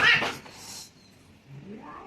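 An angry cat yowls while its fur is being trimmed at a grooming session, giving a short, faint, drawn-out wail in a quiet room.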